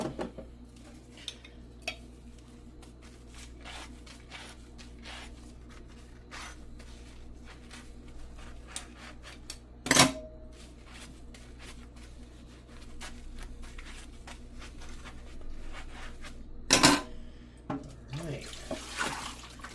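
Dishes, including soup containers, are hand washed with Dawn Platinum lemon dish soap under a running kitchen tap, water flowing steadily into the sink with scattered clinks and two sharper knocks of dishware, close and without talk.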